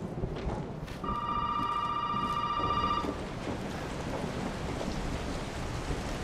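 In Resident Evil 7, a phone rings with a bright, steady electronic tone for about two seconds, over a constant wash of rain and distant thunder.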